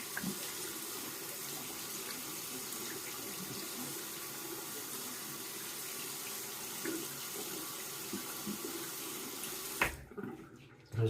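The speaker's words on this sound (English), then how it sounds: "I'm going to go ahead and rinse." A bathroom water tap runs steadily while a Personna II razor is rinsed, a close, even rushing splash with small shifts in tone that goes on alone and then cuts off with a brief knock near the end.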